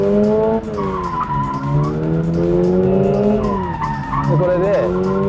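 A car drifting with engine revs held high and a clutch kick, tires squealing in long sliding wails over a steady, loud engine drone, close and continuous.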